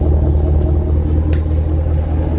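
Steady low engine rumble from a Ram 1500 pickup truck running close by, a continuous droning idle with no clear rev spikes, loud and alone without talk.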